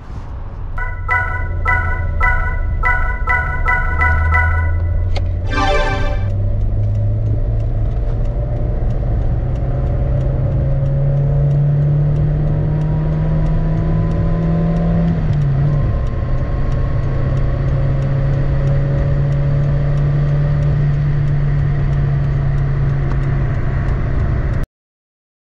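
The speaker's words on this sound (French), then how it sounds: "cette mécanique, on va aller l'essayer tout de suite sur route" A 1986 Peugeot 309 1.3 GR is driven on the road, its small engine droning steadily with pitch rising through the gears, with a burst of clicking and a short chime early on and no talk.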